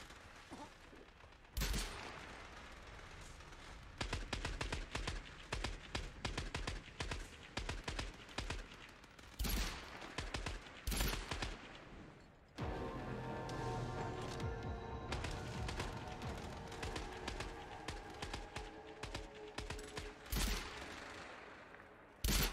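Weapons fire in the video game Scavengers, with bursts of rapid gunshots, single sharp shots and sustained volleys over a busy mix of game sound effects, moderately loud throughout with no talking.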